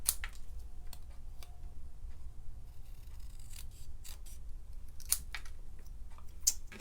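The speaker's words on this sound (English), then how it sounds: "So I'm going to trim the top and the bottom." Scissors trimming the top and bottom of a paper card strip: a series of quiet, close snips and crisp cuts at irregular intervals, with faint rustling of paper between them.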